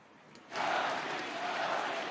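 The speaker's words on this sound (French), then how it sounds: "Puis la foule scande le nom de Johnny." Large crowd gathered outside a church at Johnny Hallyday's funeral tribute in France, swelling from quiet murmur into a loud, sustained roar of massed voices chanting his name, rhythmic and continuous, heard from a distance.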